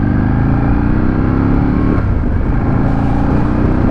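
A fired-up Aprilia RSV-R Factory Italian V-twin motorcycle engine runs close and loud at a steady, throbbing idle with a slight blip in revs midway, no voices.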